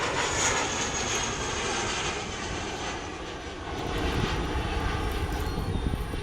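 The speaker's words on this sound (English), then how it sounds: "Look, JetBlue plane." A JetBlue jet takes off at Fort Myers Airport with a sustained, loud engine roar that swells and fades slightly as it climbs, heard from nearby outdoors without talk.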